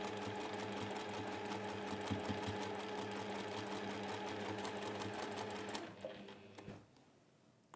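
Sewing machine stitching quilt patchwork for a Migrating Geese block, a fast, even run of needle strokes at close range that stops near the end and leaves a faint quiet tail.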